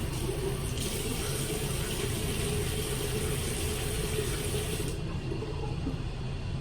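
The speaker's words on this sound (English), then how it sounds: "I like to wet my face first and then I'll put the soap on it." Water splashes steadily from a running tap as a face is wetted at a sink, a continuous close rush that holds at an even level for the whole stretch, with no voices.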